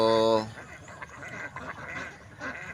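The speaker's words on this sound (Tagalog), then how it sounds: "nandiyan na ang ating mga alagang itik. Papaligo muna natin sila sa kanal." Pet ducks quack briefly near a flood-touched canal, a short bright burst at the start followed by scattered fainter calls among background sounds and a voice.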